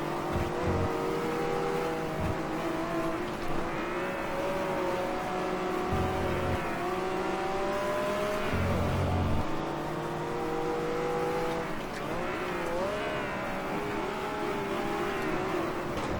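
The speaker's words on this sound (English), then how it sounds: "This engine just doesn't quite have the same pull that the Mini does." An Abarth race car in the GT Legends racing game revs hard through its gears, whining engine tones rising and dropping with each shift, plus brief low thumps, under steady game engine noise with no talk.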